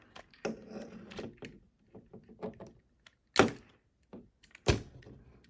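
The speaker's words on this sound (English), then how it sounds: "Unclip the doors from the side here." Close-up plastic clicks and snaps as doors unclip from a Studio Series 86 Ultra Magnus toy, in a scattered run, with two sharper, louder pops standing out near the end.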